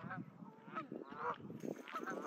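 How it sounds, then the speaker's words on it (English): Several geese honking repeatedly at close range, overlapping calls with a bit of rustling in between. "Goodbye, geese."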